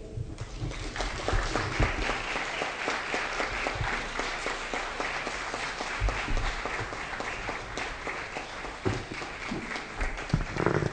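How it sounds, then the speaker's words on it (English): Sustained applause from a sizable audience for panelists at a career-change panel discussion, steady and full throughout, with a few louder claps near the end. "Let's give a round of applause for all of our panelists"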